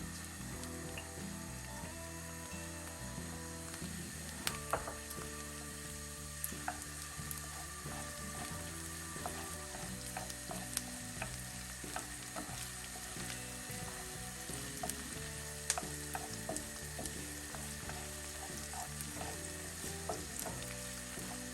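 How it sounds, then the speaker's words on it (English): Garlic and pepper frying together in a pan for Egyptian shakshuka, a steady close sizzle with faint stirring clinks and scrapes, no talking. "After I did the garlic, we can go with the pepper inside."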